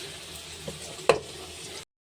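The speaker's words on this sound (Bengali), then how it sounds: "মশলাগুলো দিয়ে একটু ভালো করে ভেজে নেব" Whole spices (bay leaf, dried chilli, cumin, cinnamon, mace, large cardamom) sizzle in hot oil with a soft steady crackle, broken by a sharp spoon clack before the sound cuts off.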